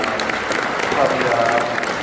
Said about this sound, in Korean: 여러분께 인사드릴 때 큰 박수로 격려 부탁드리겠습니다